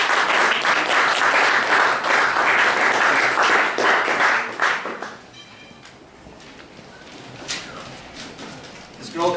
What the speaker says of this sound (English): Let's give a big round of applause for our next poet, Sharon Fox